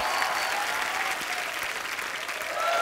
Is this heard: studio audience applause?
yes